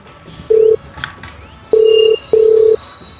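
A phone call goes out, with a short tone followed by two longer electronic ringing tones separated by brief pauses, loud and close with no talking over them.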